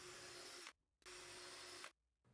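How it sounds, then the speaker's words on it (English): A power drill whirs in two bursts of under a second each, with a short quiet pause between them, drilling 3/32-inch pilot holes through wood. "Use a 3/32 inch bit to drill pilot holes all the way through the stock."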